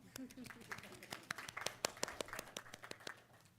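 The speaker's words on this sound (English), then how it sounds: "Should we clap one more time?" An audience at a school board of education meeting claps, sparse and uneven hand claps rising to a moderate patter, with a voice briefly heard near the start.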